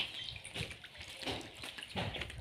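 Water pours into a tank and spills over the brim, a soft, uneven splashing and gurgling that comes in faint surges.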